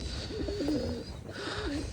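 Pigeons coo nearby in repeated soft, rolling phrases, two clear cooing bouts separated by a short pause, over a low background rumble.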